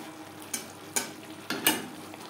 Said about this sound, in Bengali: মশলা কষানো হয়ে এসছে